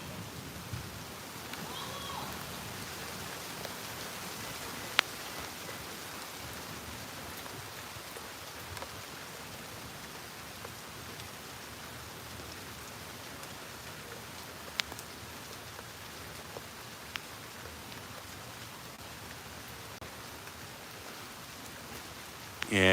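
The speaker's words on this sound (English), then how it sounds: "the rain is starting to pick up again" Steady rain pours during an afternoon thunderstorm in Tampa, Florida, a dense, even hiss that holds throughout, with occasional faint clicks and ticks over it and voices talking quietly in the background.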